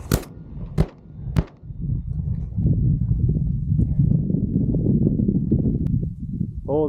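Shotgun blasts while hunting Hungarian partridge: two or three loud sharp shots in quick succession at the start, followed by steady wind-like rumble and outdoor noise with no speech.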